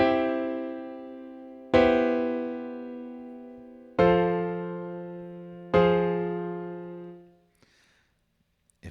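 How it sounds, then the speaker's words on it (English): Piano plays a four-measure chord loop, four struck chords each left to ring and decay before the next, close and moderately loud, ending in near silence with no voices. "It is a guitar, but I want you to input it with a piano."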